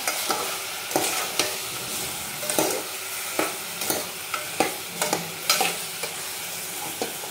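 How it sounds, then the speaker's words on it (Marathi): Chicken curry with local tomatoes being stirred in a sizzling pan, a steady run of close spoon scrapes and knocks over a soft frying hiss. "परत चांगलं मिक्स करून घ्यायचं आहे आपल्याला याला"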